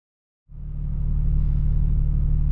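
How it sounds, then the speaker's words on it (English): A 2023 BMW M2 on its factory stock exhaust starts up, jumping from silence to a deep, steady low rumble that holds loud and constant. "I'm going to do a little drive, kind of test out the exhaust"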